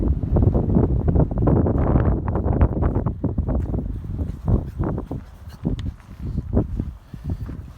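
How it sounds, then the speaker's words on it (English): Strong wind by the open sea buffeting the microphone in heavy low gusts that swell and ease, loud and close, with no voices. "will hear how windy it is."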